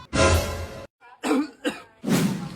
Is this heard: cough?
yes